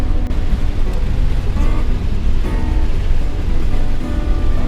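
Ocean surf rolls onto the beach at Padre Island National Seashore, a loud, continuous wash of breaking waves with rumbling low noise and no voices.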